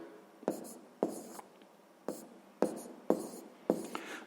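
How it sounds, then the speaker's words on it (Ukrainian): A pen writes out a sixth-grade maths solution on paper in short repeated strokes, roughly every half second, close and clear with no talking. "Ну що ж, тоді запишемо, що ми отримуємо."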